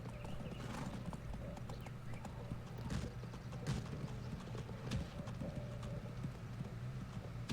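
Horse hooves clip-clop in the Go Vacation video game, light rhythmic hoof steps at low volume over a steady background hum, with occasional sharper knocks.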